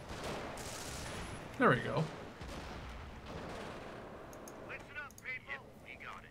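Bursts of .50 cal machine-gun fire in Company of Heroes, Battle of the Bulge in the Europe at War mod, crack through ongoing game battle noise while someone talks over it.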